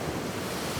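Strong Pacific Ocean waves crash and roar continuously on the shore, loud and close, with heavy wind buffeting the microphone and no other sound.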